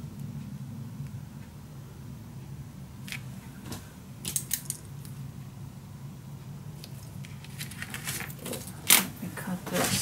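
Scissors cut through paper for a hollowed-out secret storage book, scattered faint snips and crisp clicks at close range over a low room hum, getting busier toward the end.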